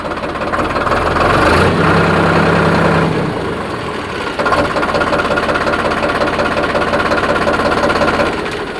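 Close and loud, a DiGiTRAC PP 43+i 52 hp tractor diesel idles with a rough, knocking, rhythmic chug, dipping briefly in the middle before resuming its steady throb; no voices.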